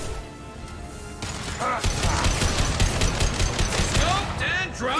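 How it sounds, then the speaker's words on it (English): Weapon fire in the Mass Effect 2 video game rattles in rapid repeated bursts, loud and close, including a concussive shot, with a voice speaking faintly underneath. "Firing concussive shot."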